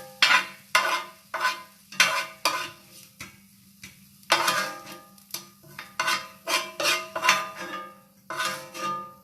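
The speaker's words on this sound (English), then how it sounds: "I'll just grab those mushies and scoop them in" Wild mushrooms being scooped into a dish: a run of short scraping and clinking strokes of a utensil against cookware, irregular and close, with a faint steady hum underneath.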